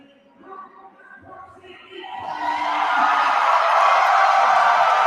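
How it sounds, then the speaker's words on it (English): A crowd at a Jersey boxing event, the Port Punchout, roars and cheers as a fighter is announced. Murmuring voices swell after two seconds into a loud, sustained wall of cheering and whooping that holds to the end. "And the crowd is going crazy."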